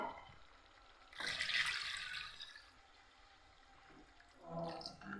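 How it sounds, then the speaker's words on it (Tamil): Water pours into a cooking pot of goat head curry in a home kitchen, a splashing rush that swells briefly, eases to a low trickle and then rises again toward the end. "இப்போ நம்ம தேவையான அளவு தண்ணி போட்டுக்கினா சரியாக போகுது"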